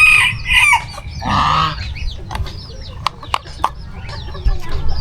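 Chickens clucking and squawking close by, with several bursts of calls and a few sharp clicks, over steady outdoor background noise.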